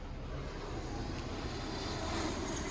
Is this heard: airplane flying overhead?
yes